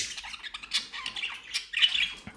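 Sharp, scratchy budgerigar squawks and chirps come in quick bursts, close by and moderately loud, with no talking.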